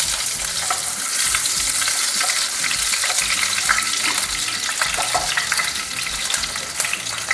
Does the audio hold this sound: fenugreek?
yes